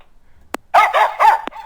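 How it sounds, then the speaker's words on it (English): Recorded dog bark sound effect from a Lego Mindstorms EV3 kit, two loud, close barks in quick succession, each short and sharp, preceded and followed by brief faint chirps. "let's do a dog bark"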